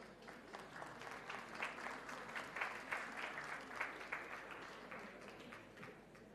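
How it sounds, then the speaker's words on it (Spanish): Audience applause for honor roll viticulture and enology students at a university anniversary ceremony, a steady wash of many hands clapping, moderately distant and sustained, with no talk over it. "El aplauso para ellos que se acercan también"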